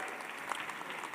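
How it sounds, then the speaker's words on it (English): A short burst of steady clapping from a crowd at an awards ceremony, fairly even and moderately loud, with no voices standing out. "Give them a round of applause, please."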